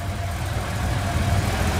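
A 1984 Porsche 911 Turbolook idles with a steady low rumble while being moved toward a loading ramp, the engine note close and continuous for the whole short stretch with no voices.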